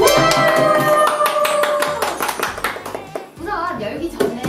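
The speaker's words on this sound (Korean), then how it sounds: "박수" A couple of people clap in a studio during a concert merchandise unboxing, quick close hand claps over a bright musical background, then people start talking as the clapping fades.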